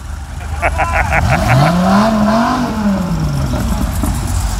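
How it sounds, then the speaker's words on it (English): A 1970s Corvette, a two-tone silver anniversary model with a 454, revs hard during a burnout, its engine pitch climbing and falling loud and close while a crowd shouts and cheers over it. "Burnout man, light them up!"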